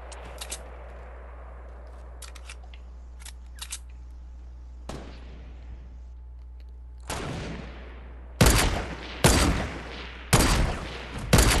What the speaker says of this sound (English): I shot a guy down.